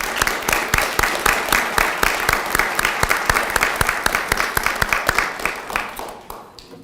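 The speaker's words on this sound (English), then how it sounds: "A round of applause for all of them" Applause from an audience at an undergraduate scholars forum, with a sustained wash of many hands and a few sharper claps standing out, fading away near the end.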